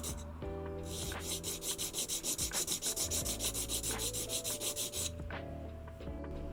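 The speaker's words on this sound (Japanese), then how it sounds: "まずは付着していた接着剤をきれいに削り落とします。" Old glue being scraped off the nut of a Guyatone LG-80T guitar during fretwork: a rapid, even run of about a dozen close back-and-forth scraping strokes, with quiet handling noise before and after.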